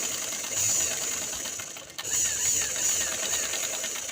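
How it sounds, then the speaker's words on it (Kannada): Sewing machine stitching a quarter-inch hem on straight pants, a steady fast mechanical whirring and ticking that runs almost without break, pausing briefly midway before resuming. "ಓಕೆ, ನಾನು 1/4 ಇಂಚಲ್ಲಿ ಸ್ಟಿಚ್ ಹಾಕ್ತಾ ಬರ್ತಿದ್ದೇನೆ."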